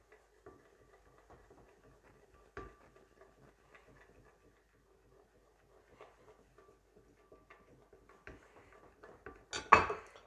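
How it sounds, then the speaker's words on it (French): Egg yolks are stirred quickly into melted chocolate in a bowl for a chocolate mousse, giving faint, sparse clinks and scrapes of a utensil against the bowl that grow louder and busier toward the end. "je mélange rapidement pour obtenir quelque chose de lisse et d'homogène"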